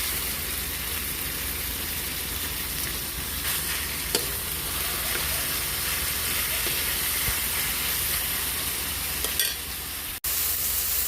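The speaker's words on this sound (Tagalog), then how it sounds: "Pwede na natin ilagay yung ating pork giniling." Ground pork sizzles steadily in a hot frying pan, a dense continuous hiss with faint stirring scrapes throughout and a brief cut-out just before the end; no voices.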